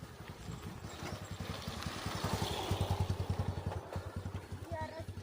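A motorbike rides down from a hilltop Perumal temple toward the foot of the hill, its engine puttering in a steady pulsing rhythm that grows louder as it nears, with someone talking over it.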